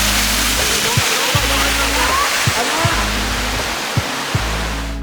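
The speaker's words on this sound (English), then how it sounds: "you'll start to run into quite a few waterfalls" A steady, full rushing roar of falling water at Wentworth Falls near Sydney, Australia fills the scene, with a low murmur of voices and a few soft thumps underneath.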